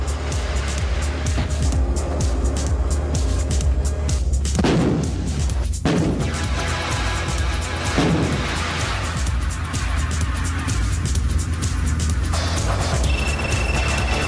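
South Africa's G6 155mm-class wheeled howitzer with a semi-automatic loader fires amid loud, continuous engine rumble, with two heavy booming blasts standing out partway through.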